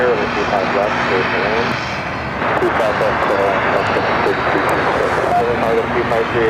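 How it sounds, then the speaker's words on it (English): A Boeing 777 freighter departing LAX on the 25 left runway, bound for Guangzhou, gives a loud, steady jet engine roar throughout, with a voice talking over it. "We have another 777 freighter heading to Guangzhou."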